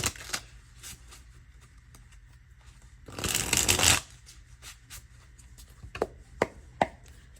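Playing cards riffled and shuffled in one dense, loud burst of rapid flutter, framed by quieter soft handling clicks and taps before and after, close to the microphone with no talking.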